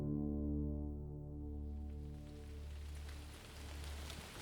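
Drizzling rain on a cold day in Nashville, Tennessee, a soft steady patter with a low droning hum beneath it, continuous and moderately quiet with no voices.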